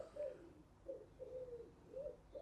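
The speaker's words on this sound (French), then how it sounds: "Il y a un petit pigeon, c'est c'est tranquille." A small pigeon coos softly nearby, four rhythmic two-part coos repeating about every half second, faint against quiet background.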